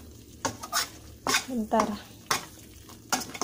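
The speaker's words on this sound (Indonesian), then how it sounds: "harus diaduk-aduk" Pineapple jam for nastar filling stirred in a pan, with a spoon scraping in a few separate strokes and faint sizzling between them, while a voice says a word.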